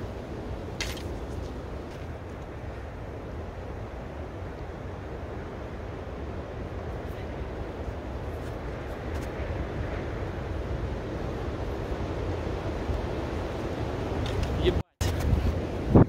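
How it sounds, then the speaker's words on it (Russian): Strong storm wind blows outdoors, a continuous roaring rush that builds slightly toward the end with a brief dropout, loud and buffeting against the microphone without speech. "Кажется, идет буря."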